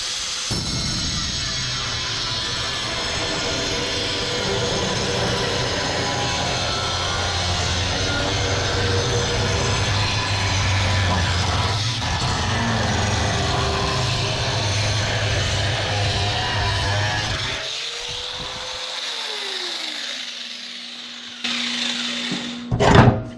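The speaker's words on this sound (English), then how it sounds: "Now I can run my grinder right along this edge" An angle grinder runs steadily along the welded steel edge of a custom truck bed, a loud continuous whine and rasp that cuts off near the end, followed by a few brief clanks.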